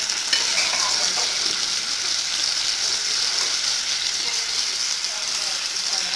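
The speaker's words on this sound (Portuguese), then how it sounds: "Então eu liguei o fogo aqui novamente pra dar mais uma fritadinha nas carnes." Meat fries loudly in a pan with white beans stirred in for feijão tropeiro, giving a dense, continuous close sizzle that holds at an even level from start to finish.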